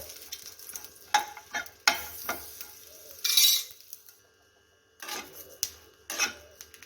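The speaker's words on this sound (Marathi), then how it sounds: "बाकीच्या राहिलेल्या मिरच्या ते पण भाजून घेऊया" Green chilies for tomato chutney roasting in a pan, heard as bursts of scraping and stirring at irregular intervals, some loud and close, with quiet gaps between and no voices.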